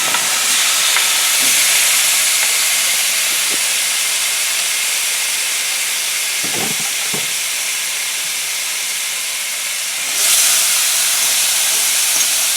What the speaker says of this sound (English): I'll let that get a little hotter before I dump that in. Okay, here goes the meat.